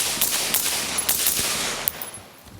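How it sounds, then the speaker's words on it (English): Rapid sharp shots from a suppressed 5.56 AR-15 rifle fired into a dirt berm at an outdoor range, several cracks in quick succession close by, then fading. "I'm gonna shoot into the berm"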